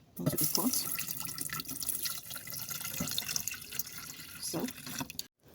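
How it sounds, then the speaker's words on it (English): Water pours steadily into a cooking pot holding fenugreek and fennel seeds, a continuous splashing stream heard up close for several seconds before cutting off. "you are going to add 1 cup of water into the pot"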